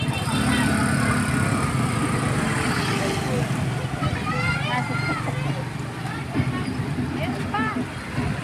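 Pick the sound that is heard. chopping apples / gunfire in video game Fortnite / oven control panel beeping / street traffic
street traffic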